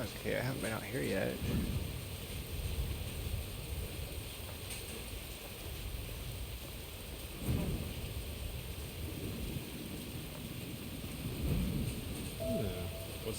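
Steady rain hiss fills the scene in the video game Pig Detective 4 while low rumbles of thunder roll in a few times, loud and full.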